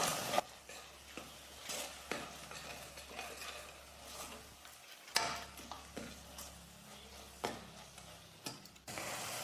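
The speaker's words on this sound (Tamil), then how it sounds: "இது எல்லாத்தையும் சேர்த்து நல்லா கலந்து கொடுத்துக்கலாம்." A spoon stirs Kashmiri chili powder, coriander powder and salt into masala in a pan for mutton kulambu, giving soft intermittent scraping strokes and sharp taps against the pan over a faint low sizzle.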